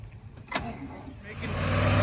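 A 1972 Chevy 4x4 wrecker engine cranks with a sharp catch, then builds into a rising, steady idle rumble that grows louder toward the end.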